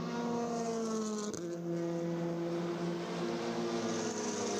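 TCR touring race cars lapping Oschersleben circuit in Germany, a steady loud engine drone holding near-constant pitch with a brief dip around one second, no voices over it.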